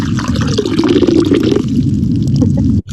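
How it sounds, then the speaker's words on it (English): Ice chunks tossed out of water during a snow-science demonstration: a close, continuous splashing and sloshing for about two and a half seconds, then an abrupt stop. "You got to hear that tossing the ice chunks out of the water there"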